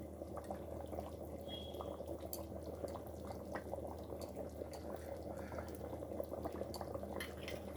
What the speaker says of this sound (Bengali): টকবক করে ফুটে গেছে মাংসের ঝোলটা